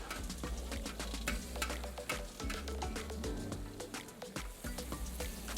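Ground beef seasoned with salt, pepper and cumin stirred in a hot pan for Mexican discada tacos, with steady sizzling and frying and repeated scraping clicks of the utensil throughout, fairly close.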